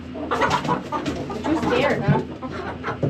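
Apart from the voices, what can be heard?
young rooster clucking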